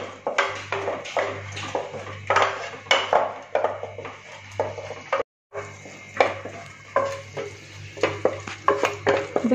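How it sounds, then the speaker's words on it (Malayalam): Masala with green chillies and a spoonful of coriander powder sautéing in oil, spatula scraping and clinking against the pan in an irregular rhythm over a light sizzle, with a brief gap midway. "ഒരു 1 സ്പൂൺ മല്ലിപ്പൊടി, ഈ മസാല എണ്ണയിൽ നന്നായിട്ടൊന്ന് വഴറ്റിയെടുക്കും"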